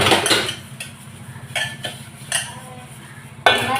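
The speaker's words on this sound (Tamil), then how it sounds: "நம்ம ஈஸி மெத்தடில் வேகமாக பாத்திரத்தை கழுவிடலாம்" Vessels being washed in a small zinc sink: close clattering of pots, plates and cutlery, several sharp clanks and scrapes spaced irregularly over running handling noise, with no voices.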